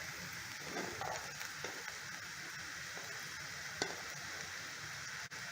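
Softened onions with turmeric and other spice powders sizzle in a pan for egg curry, a constant quiet hiss broken by a few soft scrapes of stirring, close and with nobody speaking.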